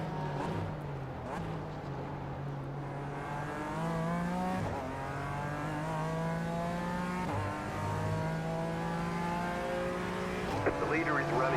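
A BMW race car engine in the iRacing video game revs up through the gears in a steady, continuous drone with rising pitch sweeps, heard under a commentator talking.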